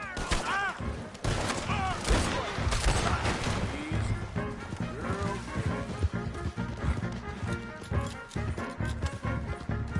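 A volley of gunfire erupts in Red Dead Redemption 2 amid galloping horses, with shouting voices and scattered crashes in a loud, busy mix.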